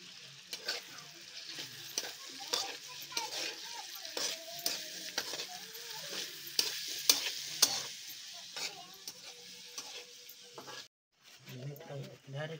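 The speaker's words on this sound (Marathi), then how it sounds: "आता कांदा परतून घ्यावा व्यवस्थित आणि त्याच्यानंतर मिरची टाकू" Onion, green chilli and wild greens fry in oil in a kadai, with a continuous moderate sizzle and regular scraping stirs, a brief pause near the end, and a voice speaking at times.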